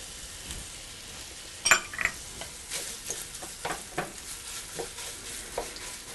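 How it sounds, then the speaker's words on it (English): Pancetta frying in a pan crackles and sizzles continuously, with sharp pops and spatters scattered throughout and a louder burst early on, close and clear with no voices. "While that pork meat is frying"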